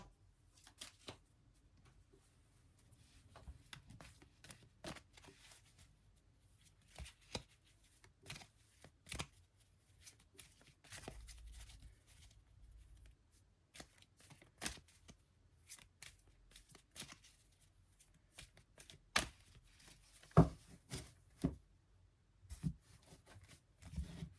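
Tarot cards are shuffled close up in repeated short riffling bursts, soft and crisp over a quiet background, with occasional louder snaps and taps near the end.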